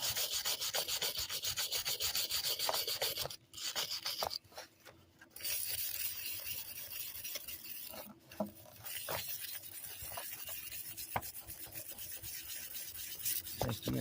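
Push mower parts are hand-sanded before painting, a close, steady rasping rub that runs nearly nonstop, with a couple of short pauses and small knocks between strokes.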